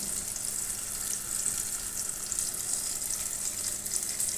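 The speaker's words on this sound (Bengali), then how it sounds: "পেঁয়াজটা একটু হালকা ভেজে নিব।" Onions fry lightly in oil in a pan, a steady soft sizzle with crackling hiss running evenly throughout, no voices.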